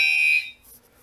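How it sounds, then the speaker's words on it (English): Kidde B5 pull station fire alarm sounds one loud, piercing tone for about half a second, then drops to a faint tail. "alarms will sound, and you'll close it right back up."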